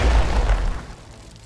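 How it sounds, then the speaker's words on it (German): A grenade explodes in the strategy game Age of Wonders: Planetfall, a single heavy, close boom with a rumbling low end that fades out over about a second. "Wir könnten auch dahin und eine Granate werfen."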